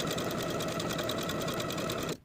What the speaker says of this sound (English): Now I'll sew from those open folded edges, from the raw end to that folded finished end, edge stitching close to that outer fold.